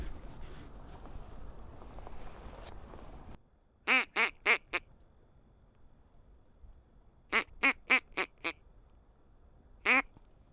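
Ducks quacking at a teal pond during a public-land hunt in northeastern Colorado: three loud bursts of rapid, close quacks in quick series, separated by quiet stretches after an opening of breezy background noise.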